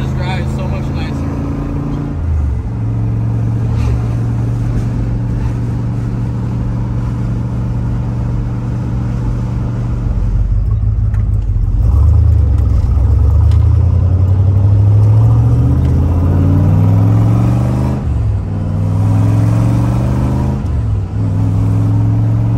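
A classic mid-year 1960s Chevrolet Corvette (427 or 327 V8) drives along with a steady, loud low engine rumble, rising and falling in pitch as it revs and shifts, under intermittent talk.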